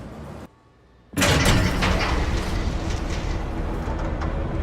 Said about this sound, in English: Train's ready!